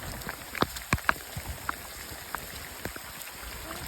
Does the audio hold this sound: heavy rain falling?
yes